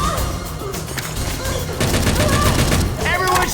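Dense, continuous gunfire from several weapons rattles at a zombie Tank in Left 4 Dead 2, loud and close throughout, mixed with game noise and a few voices.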